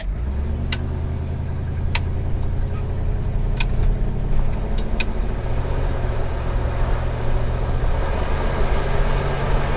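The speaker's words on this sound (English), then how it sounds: "This exhaust is loud." A 1966 Ford station wagon idles and creeps along with a loud exhaust, a steady deep engine rumble that stays close and heavy throughout, with a few faint clicks over it.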